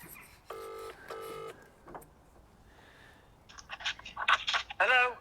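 Phone keypad tones beep in two short bursts near the start, followed by scraping and clicking as a call is placed to a fitter about a car's master cylinder and water pump.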